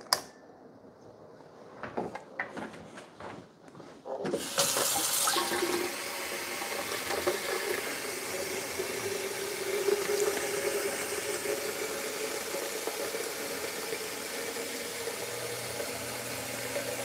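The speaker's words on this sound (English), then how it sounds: "But let me go add some water." Water pours steadily into the reservoir of a Keurig K-Supreme Plus coffee maker, a constant rushing fill after a few light clicks and knocks, fairly quiet and close.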